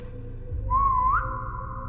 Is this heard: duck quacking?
no